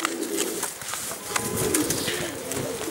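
Outzidika pigeons from Karditsa coo in low, soft, repeated calls close by, set against busy background chatter and rustling.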